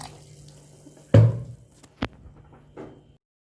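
Water is added to a pot of biryani during cooking, heard as a short splashing pour followed by a sharp knock and a fainter splash before silence.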